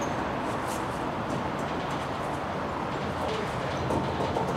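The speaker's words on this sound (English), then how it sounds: "Definitely a bad wheel bearing." A bad front wheel bearing on a Dodge Ram gives off a continuous grinding rumble as the truck rolls, steady and fairly loud without any breaks.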